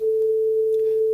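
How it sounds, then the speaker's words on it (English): A steady 440 Hz sine wave test tone plays through guitar speaker impulse responses, one pure unbroken pitch held at constant level with no voices. "I've got my 440 hertz sine wave, and it's coming out as a 440 hertz peak on both of those channels"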